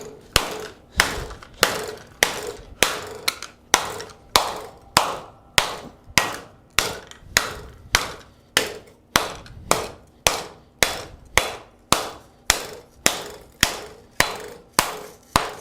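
A smith hammers hot steel into a heart-shaped bowl on an anvil, a steady run of about two dozen loud, ringing metallic blows at an even rhythm, close up with no talk.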